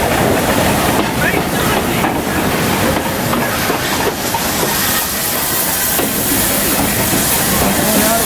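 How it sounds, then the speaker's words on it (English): A steam train pulls into a platform on the Churnet Valley Railway, its steady clatter and hiss filling the scene at close range, with a voice announcing over the noise. "the next train is arriving"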